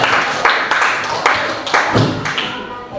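A classroom of students claps for a classmate named Amel, a rhythmic, fairly close burst of hand claps in steady beats, loud and without talk.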